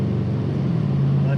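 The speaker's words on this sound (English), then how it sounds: "Oh, love that V8 grunt." A 4x4's V8 engine accelerating during a brake test on a high-mileage vehicle: a close, deep, steady rumble that swells slightly over a brief moment, with a voice talking over it.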